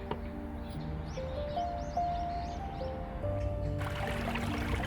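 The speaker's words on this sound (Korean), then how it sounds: "물소리," Steady trickling, gurgling water runs throughout a forest in the middle of a city, with a brighter rush of flow near the end and faint bird chirps high above.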